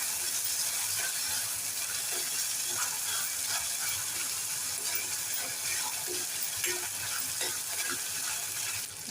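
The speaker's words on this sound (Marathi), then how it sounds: "आता आपण एक बारीक चिरलेला टोमॅटो घालूया तो सुद्धा छान परतून घेऊया" Finely chopped tomato sautéing in a pan for a village-style wet cashew curry, a steady close sizzle with scattered scraping stirs running continuously for several seconds, without talk.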